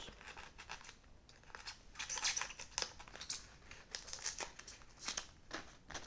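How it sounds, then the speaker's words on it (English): A blade cuts out a layer of foam from an RC flying-wing airframe during a build. The result is a faint, irregular crunching and crinkling in short scratchy bursts, with no talk. "So I'll go in and cut out another layer."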